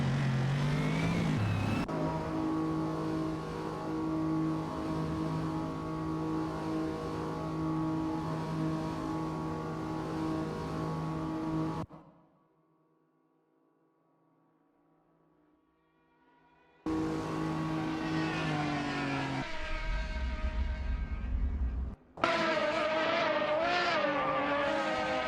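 Race cars roar through an AI racing video game, their engines holding a loud, steady whine. The sound cuts out to near silence for several seconds in the middle, then the engines return just as loud.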